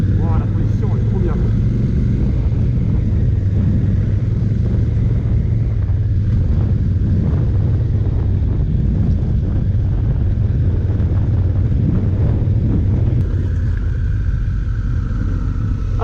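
Steady engine drone and road rumble from a 2016 Honda Africa Twin motorcycle on the move, with wind buffeting the microphone throughout and a rider talking over it.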